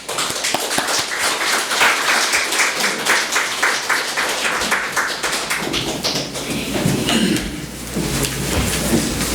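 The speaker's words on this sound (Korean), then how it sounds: "우리 선교사님 나오실 때 우리 박수로 환영하겠습니다" A church congregation claps to welcome a missionary, steady hand-clapping that grows fuller and louder toward the end, with no one speaking over it.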